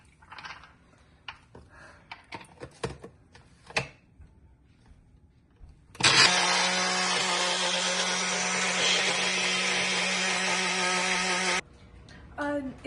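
Kitchen mixer grinding ingredients into a paste, starting abruptly after some soft handling noises and then running as a loud, steady whir for about six seconds before cutting off.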